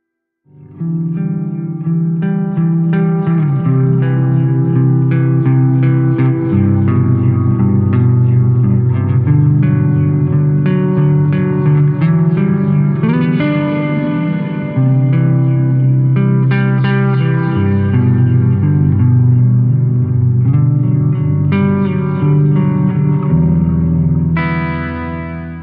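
An electric guitar run through the Tera Echo effect on a Boss ME-80 multi-effects unit, playing a continuous loud chordal and melodic passage with washy, shimmering ambient trails for about twenty-five seconds.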